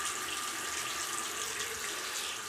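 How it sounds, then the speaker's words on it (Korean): Water running in a bathroom, a steady broadband hiss like a faucet or sink filling, continuous and fairly close, with no talk over it. "갑자기 가끔 화장실에 물소리 날 때 있어."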